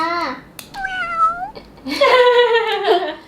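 A cat meows repeatedly at close range: a short call, a longer drawn-out one, then a loud, wavering caterwaul-like meow, with a quiet room behind it.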